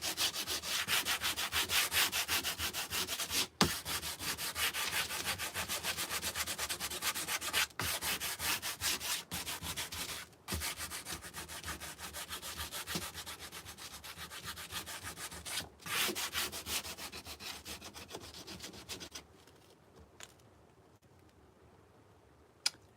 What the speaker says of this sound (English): we can just come back with our sandpaper and we can sand some more